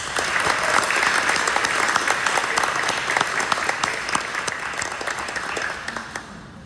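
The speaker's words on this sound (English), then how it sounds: "let's give them a round of applause" A school board meeting crowd of the Henry Hudson Regional School District gives a round of applause, steady close clapping that fills the room and eases slightly toward the end.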